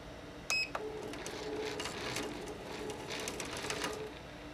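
An SWF embroidery machine traces a cap design, moving its frame without stitching: a short beep, then steady, close mechanical whirring and clicking.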